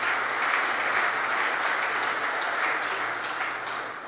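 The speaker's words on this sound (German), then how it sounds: "Ihr Applaus, Sie haben es gehört." Sustained applause from a large audience, loud and continuous, fading slightly at the very end.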